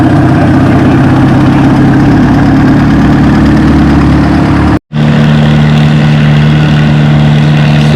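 A pulling tractor from the 3,000-pound King of the Hill class idles loud and close at a tractor pull at the Othello Spring Nationals, a steady low engine drone that cuts out briefly near the middle, then resumes as an even, rumbling idle.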